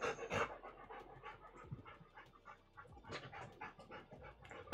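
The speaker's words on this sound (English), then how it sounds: "Sounds like that dog has a whip tail." A dog pants rapidly and steadily close by in a quiet room, soft rhythmic breaths with faint thumps that may be its tail wagging.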